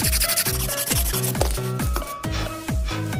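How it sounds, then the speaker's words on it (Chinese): Fine sandpaper is rubbed by hand over the slip ring of a car alternator, producing quick, regular back-and-forth scratching strokes, close and loud, with no talking. "我们用细砂纸把这个滑环给它打磨一下"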